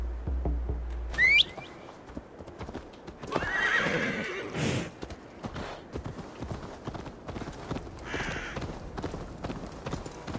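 Hooves clip-clop steadily while a horse whinnies loudly a couple of times, with faint birdsong and a short whistle early on, all in a game-like outdoor ambience in Assassin's Creed Valhalla.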